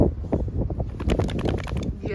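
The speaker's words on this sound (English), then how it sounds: "it's so windy" Wind gusting outdoors on a blustery day among bare trees, a steady low rumble of buffeting against the microphone that continues under a voice talking.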